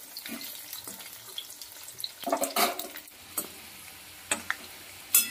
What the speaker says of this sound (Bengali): ভালো করে নেড়ে চেড়ে আলুটাকে ভেজে নিতে হবে।